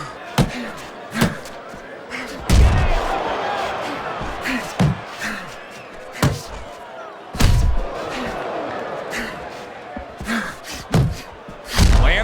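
Heavy punches land in a Fight Night Champion boxing simulation of Dillian Whyte against Oleksandr Usyk: irregular loud thuds and slams over a steady arena crowd roar, with commentary talk running underneath.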